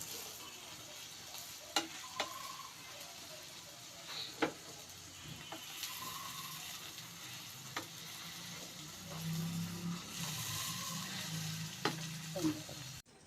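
Eggs with potato and spices fry in a pan, a soft continuous sizzle with occasional utensil clicks and scraping as the mixture is stirred, faint and close.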